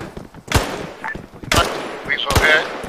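Gunshots in the military shooter Arma 3 during a hostage rescue mission: three sharp, loud bangs spaced about a second apart, with people talking quietly between them.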